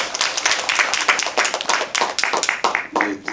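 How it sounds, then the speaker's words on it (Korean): Audience applause at a post-screening Q&A for the film 'Madonna', honoring director Shin Su-won: steady, dense clapping from a nearby crowd, sustained for a few seconds with slight dips, a voice briefly heard over it. "박수 한번 부탁드리겠습니다."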